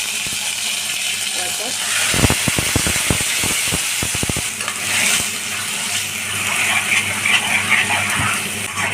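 Garlic paste, ground with coriander, curry leaves and cumin, sizzles in hot oil with curry leaves for a Marathi chole-vatana curry. A steady close hiss runs throughout, broken midway by a quick burst of stirring clatter.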